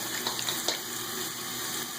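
A steady hiss of water pouring from a tap, fairly quiet and constant, with a couple of faint clicks.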